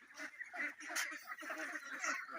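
Ducks on a duck farm quack and honk in a dense, continuous chorus of overlapping calls, fairly close and steady throughout.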